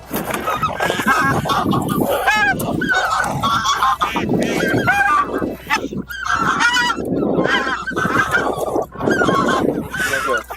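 A flock of white-fronted geese honks loudly and continuously at a hunting spot in Téteghem, many overlapping calls in a dense chorus, close and unbroken throughout.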